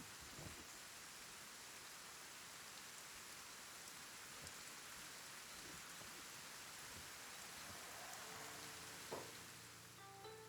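Light rain falls steadily in the game Kenshi, a soft continuous hiss of drops on surfaces, low and even throughout with a few faint tonal game sounds near the end.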